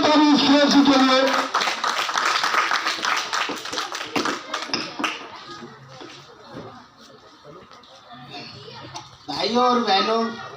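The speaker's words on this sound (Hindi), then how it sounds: "एक बार जोरदार ताली" A crowd at a Maharshi Valmiki festival event claps loudly in a burst of applause, the clapping fading out midway, with a voice speaking over the start and again near the end.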